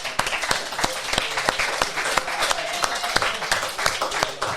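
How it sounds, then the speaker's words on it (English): Applause for a guest on a podcast: a steady round of clapping from a small group, lasting a few seconds with sharp, evenly spread hand claps. "Round of applause for Rohit."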